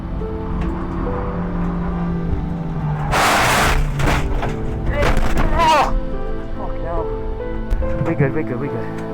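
A Toyota Yaris crashes at around 100 mph during a Javelin Sprint race at Oulton Park, heard from inside the car: steady engine and road drone broken by several loud, harsh impact bursts, with a voice speaking near the end.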